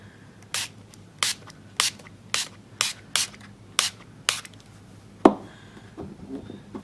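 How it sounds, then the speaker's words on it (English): A hand spray bottle spritzes alcohol ink for a card project, giving about eight short, crisp bursts at a steady rhythm, up close, followed by a soft knock and light handling sounds. "I'm just going to spritz"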